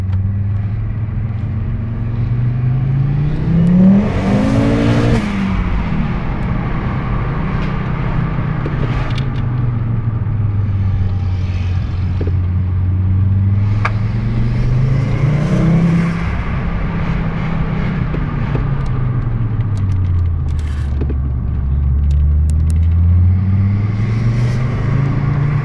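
Turbocharged 2.3 liter Volvo engine in a V70R, run through KMS MD35 engine management, revving up and down in slow repeated sweeps with a deep, loud rumbling drone throughout.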